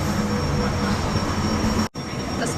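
A high-speed front-loading washing machine spins a load of garments up toward 480 RPM, giving a loud, steady whirring drone with a brief drop near the end.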